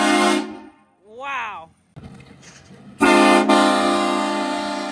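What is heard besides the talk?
HornBlasters air horn on a 2022 Ford F-150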